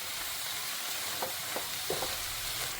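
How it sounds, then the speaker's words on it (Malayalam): Spinach and lentils stirred together in a hot pan for cheera parippu thoran, a steady soft sizzle with several scraping stir strokes close by, no voices. "നല്ലതുപോലെ ഒന്ന് മിക്സ് ചെയ്യാം."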